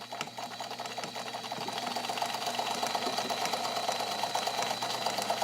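A vintage all-metal Necchi BU Nova zigzag sewing machine, Italian made, stitches at its longest stitch length, a steady close mechanical whir and rapid needle clatter that holds an even rhythm and grows slightly louder as it runs.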